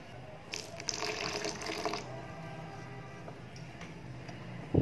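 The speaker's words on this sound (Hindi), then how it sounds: "थोड़ा सा पानी ऐड करें।" Water is poured into a soaked semolina batter, with brief splashing and trickling in the first two seconds, then quieter stirring and handling noises, fairly close and moderately loud.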